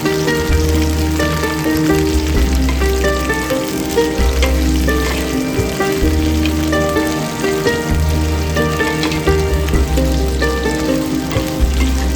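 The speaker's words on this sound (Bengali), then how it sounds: "সর্ষের তেলটা গরম হয়ে আসলে কেটে রাখা ঢ্যাঁড়সগুলোকে দিয়ে দেব।" Sliced okra fries in hot mustard oil in a wok, a loud, steady, dense sizzle that runs throughout with background music beneath and no talking.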